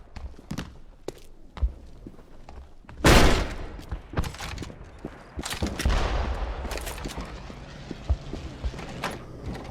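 Gunfire in the video game Wolfenstein: The Black Sun: scattered sharp shots and a loud burst of fire, with footstep-like thuds in between, all fairly close.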